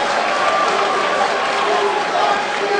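A loud, dense roar from the crowd at the EVO 2012 King of Fighters XIII grand final, a steady wash of cheering that holds without a break.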